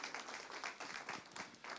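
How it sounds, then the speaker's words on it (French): Audience applause at a French talk on organic farming, pesticides and health: a steady wash of clapping that keeps going for the whole stretch, fairly faint and fluctuating, with no voices over it. "On applaudit"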